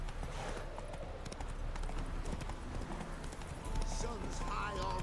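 Roach the horse gallops in The Witcher 3 video game, giving steady rapid clip-clop hoofbeats that run throughout, with someone talking over them.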